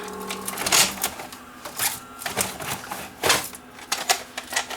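A Panasonic PV-4361 VCR with a tape-eating fault ejects a cassette, giving close mechanical whirring, clicking and clunking in uneven bursts.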